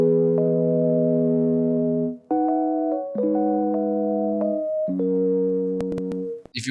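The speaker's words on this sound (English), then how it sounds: "Without these extra processing, the piano would sound like this." Dry Addictive Keys Mark 1 electric piano playing sustained chords with no delay, phaser or reverb, several held chord changes ringing clearly and alone, with a few faint clicks near the end.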